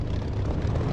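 Fighter jet engine spooling up for takeoff in the DCS flight simulator game, a steady low roaring rumble that holds through the short moment with no speech.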